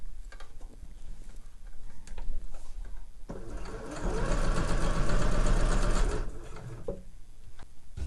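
A sewing machine stitches a slipper boot's outer to its lining. After a few slow single stitches comes a loud, fast, steady run of needle strokes lasting a few seconds, then it slows and stops, close by.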